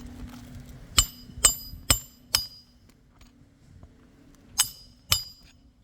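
Six sharp hammer strikes on a roof nail ring out with a metallic clink, four in quick succession, a pause, then two more, close and loud over quiet background.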